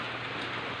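Rain falling steadily as an even, continuous hiss of drops on surfaces, close and moderately loud, with no voices over it.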